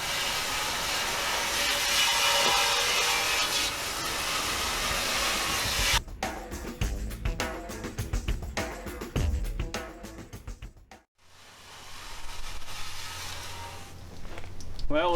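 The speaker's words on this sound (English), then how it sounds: "I'm going to go after them with a wire wheel and see how much more rust I can get off" A wire wheel scrubs rust and crud off John Deere MC crawler parts with a harsh, steady hissing whir. Its texture turns rougher and more uneven midway, then it briefly stops before resuming.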